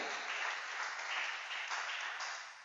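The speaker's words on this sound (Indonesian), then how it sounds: "Tepuk tangan buat Tuhan Yesus Kristus" Congregation clapping in a church service, a steady wash of many hands that holds evenly and fades slightly at the end, with no voices standing out.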